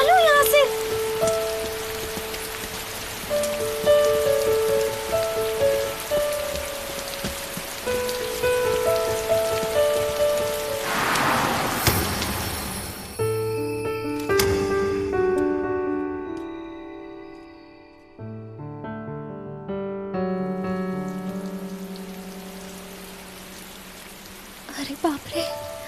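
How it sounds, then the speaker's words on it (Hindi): Rain patters on a surface in a scene from a dubbed drama series, a steady hiss running beneath prominent musical tones that swell and fade. "बारिश हो रही है"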